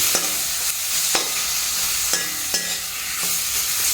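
Onion, tomato and curry masala fry in a pan for a makhana (lotus seed) roast, with a steady sizzle broken by several sharp spatula scrapes and taps as the mixture is stirred close by.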